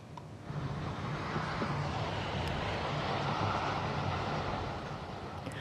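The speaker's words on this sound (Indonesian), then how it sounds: "Pesawat tempur Israel menggempur sebuah bangunan di kawasan Machouk, Lebanon Selatan." Israeli fighter jets over southern Lebanon make a broad, continuous roar that swells in after a quiet start and holds steady and loud, with no voices present.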